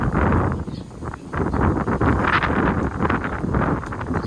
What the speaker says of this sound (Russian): А, какой ветер.